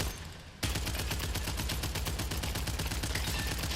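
Rapid automatic fire from an engine rifle in the underwater shooter game Abyssus, a dense, steady stream of loud close shots after a brief quiet moment, continuing without pause.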